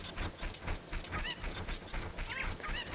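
Clucking calls of a Cucco chicken in the video game Zelda: Ocarina of Time, a few sharp squawks in the village setting over a busy background of game music and noise.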